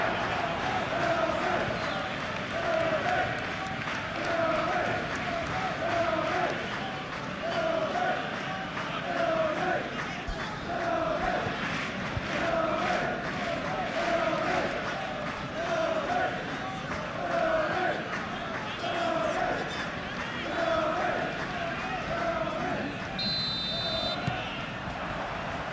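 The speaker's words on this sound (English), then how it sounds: "A capacity crowd here." A capacity stadium crowd at Nottingham Forest vs Manchester United in the Premier League keeps up a continuous roar and rhythmic chanting, loud and steady throughout, with no commentary voices heard over it.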